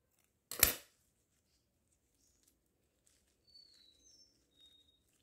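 Scissors snip once through ribbon while a bow is being made for a craft, a single close, crisp cut followed by faint light rustling and handling.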